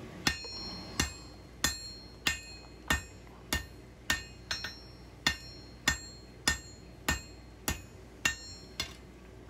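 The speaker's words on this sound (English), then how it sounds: "Now we'll go to the anvil and clean things up." A hammer strikes steel on an anvil while forging a knife, in a steady rhythm, about fifteen sharp ringing blows, close and clear, with no voices.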